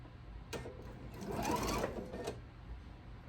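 A sewing machine stitches a seaside-themed quilt block in one steady run of about two seconds, starting and stopping cleanly, fairly close and alone with no talk.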